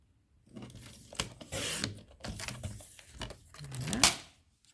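Scrapbook paper from a Route 66 themed kit is trimmed with a cutter, giving a few brief close dry swishes and scrapes with quiet pauses between them.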